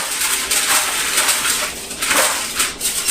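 Aluminum foil is pulled and crinkled over a whole raw chicken before it goes into the oven, a loud, close rustling with uneven bursts of crackle throughout.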